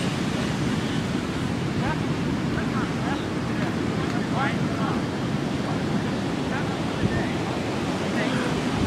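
Ocean surf rolls steadily onto a beach, a loud continuous wash with wind buffeting the microphone and faint voices now and then beneath it.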